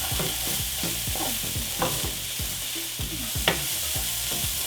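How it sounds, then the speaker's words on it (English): Onions and garlic frying in a pan until translucent, a steady close sizzle with repeated rhythmic scraping from stirring, continuous throughout with no voices. "I cook it just till the onions are translucent."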